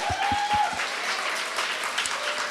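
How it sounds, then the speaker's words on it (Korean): A church congregation breaks into sustained applause during a Sunday worship service, a dense wash of clapping that stays steady and moderately loud throughout. "우리 하나님께 가장 큰 박수로 영광 돌릴까요?"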